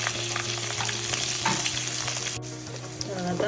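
Green chillies and onions frying in a pan for Telangana-style horse gram rasam give a steady, close sizzle with soft stirring scrapes throughout, no voices.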